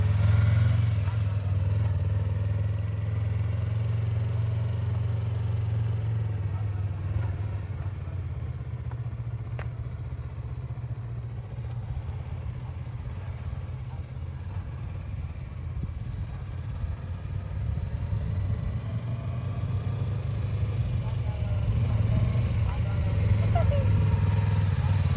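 A motorcycle engine idles and rumbles steadily as a learner rider works the throttle and clutch, its low drone swelling gently toward the end, close by with no clear revving bursts.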